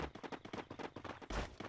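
Rapid bursts of video game gunfire crackle in a dense, repeated volley, with one heavier blast near the end, all loud and close.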